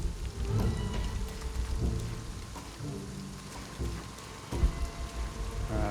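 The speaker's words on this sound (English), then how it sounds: "Storm is coming in quick." Steady rain pours under the low rumble of thunder during a quickly building storm in Shadow of the Tomb Raider, with a deeper thunder swell near the end and no voices.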